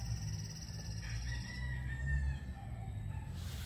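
Andalusian chicken, a rooster crowing once in a drawn-out call over a low background hum, fairly faint and at moderate distance.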